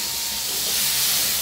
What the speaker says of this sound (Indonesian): Ini yang tadi sudah dipotong-potong, kita tumis dulu.